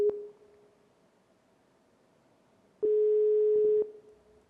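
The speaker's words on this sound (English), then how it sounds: "So you hear a ringing, that's a good sign." A phone line rings while a call is placed to an AI voice bot, with a steady electronic ringback tone, a short pulse at the start and a louder one-second tone near the end, and no talking.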